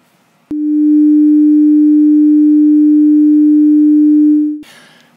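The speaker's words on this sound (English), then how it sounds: "let's hear first what a sine wave sounds like on its own." A pure sine wave tone, a single steady hum that starts abruptly, holds loud and unchanging for about four seconds, then cuts off.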